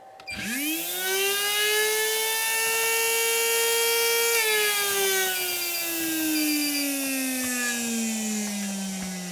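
A Fantom V2R 17.5-turn RC motor spins up on a dyno with a rising electric whine that climbs quickly to a steady high-pitched scream, holds, then slowly winds down in pitch, close and alone.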